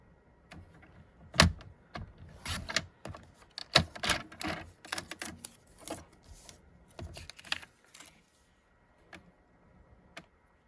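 Crisp snips and clicks of cardstock being trimmed with a paper trimmer at a stamping craft table, a series of close, sharp bursts arriving irregularly, then a quieter stretch near the end.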